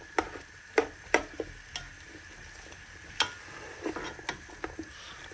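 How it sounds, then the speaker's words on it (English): Stuffing seasoning fries in a pan as it starts to sizzle: a soft, quiet crackle with scattered clicks and taps from stirring, close by with no talking. "so this is starting to sizzle."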